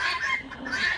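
Farm hens give a brief, raspy honking call, close and fairly loud, lasting about a second with no talking.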